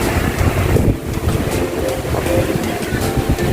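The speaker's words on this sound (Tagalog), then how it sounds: "Ang lakas ng hangin." Strong wind gusts roar across a tropical beach resort in the afternoon, buffeting the microphone with a loud, constant rumble, and surf may wash faintly beneath it.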